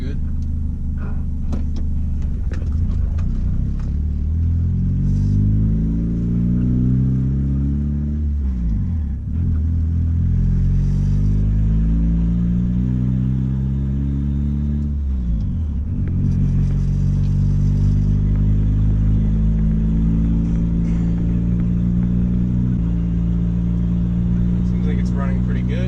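A turbocharged Honda Accord CD5 engine hums loudly and steadily in the cabin, with a few smooth rev climbs and drops between long stretches of even running, and someone talking over it.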